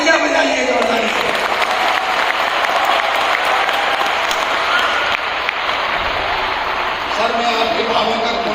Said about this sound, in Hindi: तो मित्र मिले, तालियां बजाइए जोरदार से।